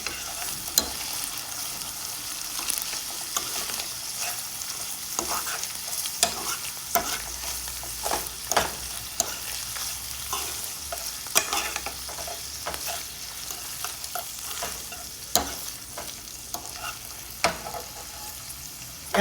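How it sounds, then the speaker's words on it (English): Meat fries in a pan as part of a simple casserole with ramen noodles, a soft steady sizzle broken by repeated scraping clicks of a utensil stirring it, close and fairly quiet. "Just keep stirring your meat so it cooks evenly on all sides of it."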